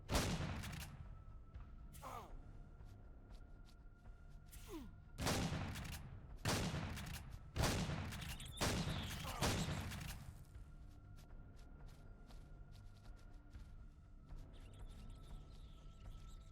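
Bursts of turret gunfire inside a derelict space station in the survival game Empyrion, several loud sharp volleys in quick succession with brief pauses between them, over a low steady ambient hum.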